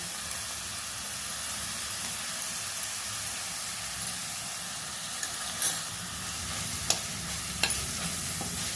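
Ginger garlic paste fries with chopped onions in a pan, a constant close sizzle broken by occasional light clinks and scrapes of stirring.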